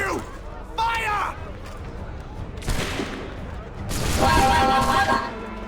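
Musket volley in a video game, a burst of massed gunfire cracking out amid shouting voices, with a second louder barrage following a moment later.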